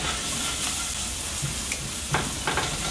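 Sausage sizzles steadily in a hot pan while it is stirred, with a few soft scraping strokes breaking through the constant frying hiss.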